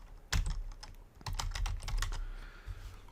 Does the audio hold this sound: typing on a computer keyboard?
yes